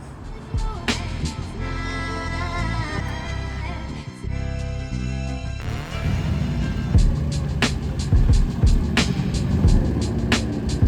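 A 600 horsepower Subaru-powered Suzuki Swift, its engine droning with steady tones that shift midway, amid loud surrounding noise and scattered sharp knocks.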